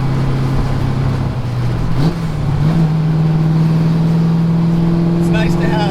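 The V8 engine of a 1973 Ford Mustang restomod cruises through city traffic, a loud steady low drone with one brief shift in pitch midway.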